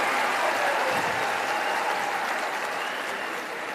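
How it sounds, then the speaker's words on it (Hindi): Audience in a Patna auditorium applauds to welcome a speaker, a thick wall of clapping that stays loud and even before easing slightly toward the end. "जनाब प्रशांत किशोर जी का जोरदार तालियों के साथ स्वागत करें।"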